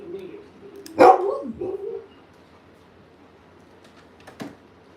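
A dog at a family gathering gives one loud bark that trails into a short howl, then a fainter bark comes a few seconds later over quiet room tone.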